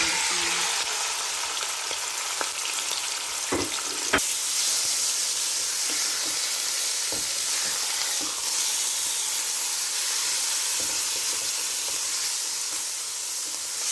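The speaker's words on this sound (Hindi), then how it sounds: "उसमें मैं ऑयल डाल दूँगी। बिस्मिल्लाह, मैं चिकन डालूँगी" Chicken pieces frying in hot oil in a pot, a steady loud sizzle and hiss throughout, with a few clinks and stirring knocks from utensils near the start.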